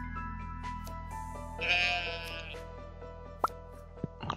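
Goat bleating in the farming video game Stardew Valley, a single clear bleat rising over steady game music and chimes, followed by a couple of short plopping clicks.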